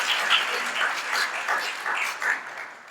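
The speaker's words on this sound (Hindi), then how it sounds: "उसके लिए भी एक बार ताली बजाइए।" Audience applause at a 26 January Republic Day event, a steady patter of many hands clapping at moderate volume with no voices.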